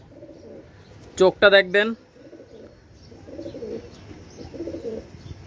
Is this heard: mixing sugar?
no